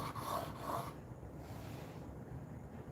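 A knife blade rasps on a whetstone in two quick strokes, then settles into a quieter, softer rubbing.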